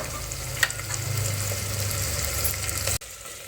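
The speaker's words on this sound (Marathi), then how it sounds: "तेलामध्ये फ्राय होऊ द्या कच्चे शेंगदाणे टाकूयात" Raw peanuts frying in hot oil give a steady, close sizzle with a faint stirring scrape, and the sound cuts off abruptly near the end.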